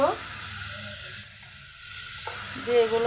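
Ground coriander and cumin powder sizzle in a pan with onion paste and ginger-garlic paste, a steady close frying hiss with stirring, while someone speaks briefly over it.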